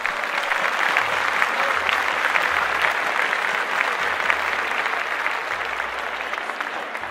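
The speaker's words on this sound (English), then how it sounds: "Let's stand and give Anne a big hand." An audience applauds in a sustained, dense wave of clapping that stays even and loud throughout, with no talk over it.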